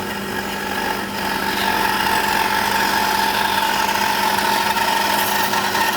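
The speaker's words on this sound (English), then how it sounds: "Bandsaw's back on." A bandsaw runs steadily while cutting a circle in wood on a circle-cutting jig, giving a continuous, even mechanical hum with a faint high whine. It holds a constant level throughout, close by, with no talk.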